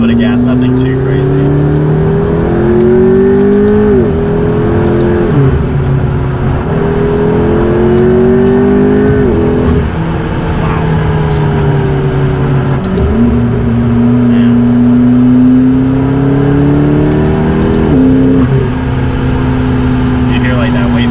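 Turbocharged Toyota Supra with an upgraded turbo revs close by, engine note rising and falling in repeated pulls with whooshing turbo and wastegate sounds over a steady drone.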